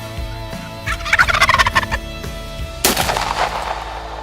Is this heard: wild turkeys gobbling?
yes